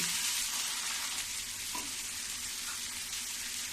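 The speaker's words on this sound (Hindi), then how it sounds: "अब इसको भी मैं थोड़ी सा भून लूंगी।" Coarsely ground ginger, garlic and green chili fry in a pan for a pea and cauliflower sabzi, giving a soft, steady sizzle up close with a faint stir or two and no voices.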